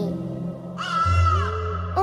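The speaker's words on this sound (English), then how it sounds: "I don't like crows at all!" A crow caws in the video game Tandem: A Tale of Shadows, a harsh drawn-out call rising over a low rumbling game soundscape.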